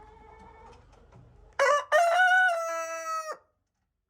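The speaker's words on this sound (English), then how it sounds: "in our chicken house here, we have black leghorns, we have light Sussex, We have the Plymouth Barred Rock, and of course we have the Rhode Island Red" A rooster crows loudly and close in a chicken house holding Black Leghorn, Light Sussex, Barred Plymouth Rock and Rhode Island Red hens, with one long drawn-out call following soft low clucking.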